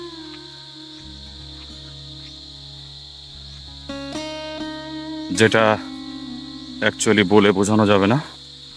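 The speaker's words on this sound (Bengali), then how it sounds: "চতুর্দিকে ঝিঝি পোকার ডাক" Crickets chirp around a waterfall in the Philippines as a steady high insect drone, with someone talking over it and louder, bursty calls rising near the end.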